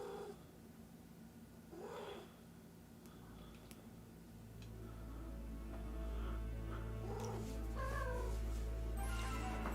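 A house cat meows several times over a steady low hum, with the meows close and moderately loud.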